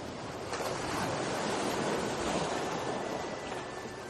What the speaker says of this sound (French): Vous observez les reflets du soleil sur la mer, la danse des vagues.